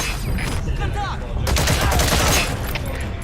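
A loud burst of rapid gunfire erupts in a shooter video game and builds into a dense volley over about a second, with voices heard just before it.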